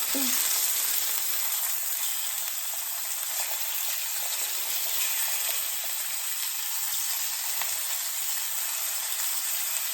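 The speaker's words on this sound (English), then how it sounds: "I'm just trying to sear them a little bit" Pork chops sear in a frying pan with a steady, bright, hissing sizzle that holds evenly and up close throughout, with no talking over it.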